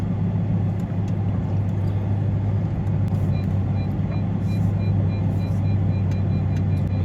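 A Lamborghini reversing into a parking space, a steady low engine hum at slow speed with faint high beeps above it, close and continuous.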